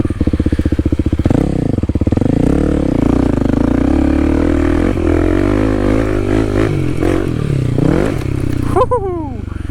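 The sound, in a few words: Kawasaki KLX300 dirt bike riding through mud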